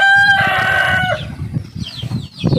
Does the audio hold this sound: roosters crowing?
yes